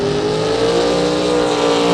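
A 1963 split-window Corvette at a drag strip, its engine blaring a loud, sustained, harmonic-rich roar at high revs, steady and close, with no talking over it.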